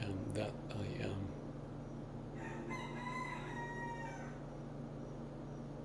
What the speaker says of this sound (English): Maybe that's what the rooster is saying as they move around.